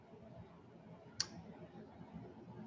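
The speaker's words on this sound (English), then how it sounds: "now I'm going to click on preview." A single sharp mouse click on a preview button while building an online course page, brief and fairly close against a faint background hiss.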